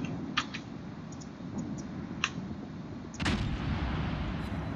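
Cruiser main guns fire in World of Warships as a New Orleans tier 8 cruiser targets the Mogami. Scattered light cracks and clicks sit over a steady low rumble, and a louder, longer boom arrives near the end. No speech.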